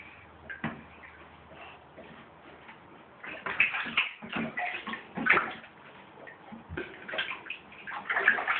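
A small child named Greer splashing in bath water, with soft sloshes that start sparse and quiet and then turn busier and louder, close by, with occasional faint voices.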